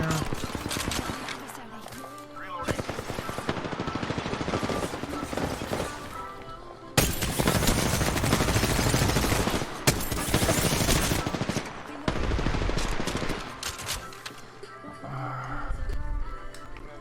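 Rapid automatic gunfire in an Xbox shooter game, long dense bursts nearly continuous and loud, with music under it and a player talking at times.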